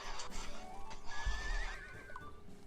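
In a video game, a horse whinnies faintly once in the middle of the clip, a thin, wavering cry over quiet, murmuring game ambience.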